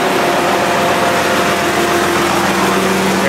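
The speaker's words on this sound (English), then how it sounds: "Look at this tractor." A tractor engine idles steadily and loudly close by, a constant low rumble with no voices.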